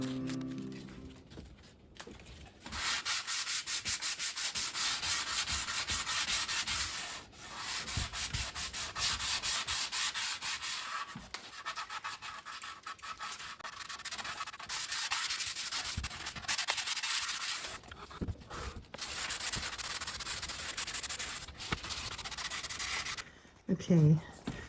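A Windsor chair's wooden surface being hand sanded with 220 grit sandpaper, producing close, steady raspy rubbing strokes in long runs with brief pauses between them.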